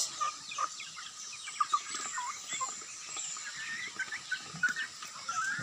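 Chickens and ducks on a farm cluck and chatter in soft, scattered calls over a faint background hiss, with occasional louder clucks standing out close by.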